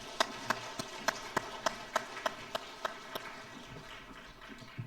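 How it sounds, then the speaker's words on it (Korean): Church congregation at a Christmas Sunday service giving a round of applause: a string of distinct, evenly spaced sharp claps that grows sparser and fades into quiet room noise, moderately faint. "하나님께 영광의 박수 올리겠습니다."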